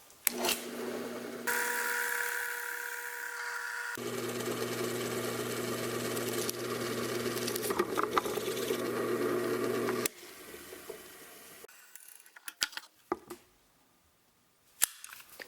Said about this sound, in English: hopefully that will keep the drill from causing too much tear out